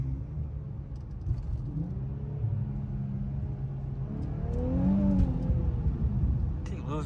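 An Infiniti Q50 Red Sport drives along as its tires lose traction, a low engine rumble with a rising rev around the middle, while someone talks over it.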